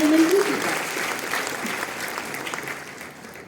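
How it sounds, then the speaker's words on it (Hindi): Loud applause from an assembled audience welcoming a government minister at a formal event, a dense wash of many hands clapping that starts strong and gradually tapers off. "पुनः जोरदार तालियों के साथ स्वागत करें माननीय मंत्री जी का।"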